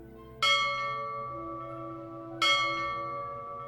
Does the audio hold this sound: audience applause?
no